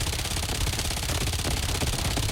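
Rapid continuous gunfire from a shooter video game, dense and loud, sustained with no pauses and no voice over it.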